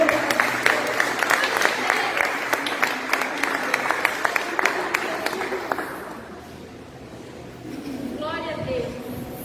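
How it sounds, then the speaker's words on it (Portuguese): A church congregation claps and applauds steadily for several seconds, the dense clapping fading out as a voice continues speaking with a hint of music underneath. "Você pode aplaudir ao Senhor."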